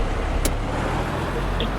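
A combine harvester creeps along slowly, its heavy engine giving a steady low rumble with a brief sharp hiss partway through, fairly close and without talk.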